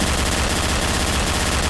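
Gunfire in Garry's Mod during tow truck roleplay, a dense loud burst of rapid shots filling the whole moment without a break.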